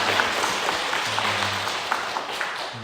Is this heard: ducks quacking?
no